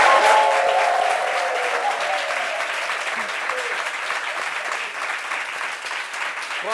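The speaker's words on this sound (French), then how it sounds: "Applaudissements de Franck Conan" A studio audience claps to welcome a guest on a French talk show, steady sustained applause that fills the whole stretch and eases off slightly toward the end.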